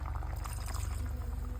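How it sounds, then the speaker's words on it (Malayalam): Water is poured into roasted coconut curry paste in a pan for konju theeyal, a prawn curry. It makes a continuous splashing, bubbling pour over a low steady hum. "കുറച്ച് വെള്ളം ഒഴിക്കാം"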